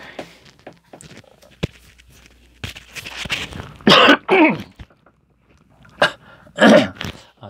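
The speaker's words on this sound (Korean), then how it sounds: "기침이 자꾸 나오네." A man giving a Korean lecture on the Book of Romans coughs several times: a few faint throat sounds, then two loud, harsh close bursts, a pause, and two more strong coughs near the end.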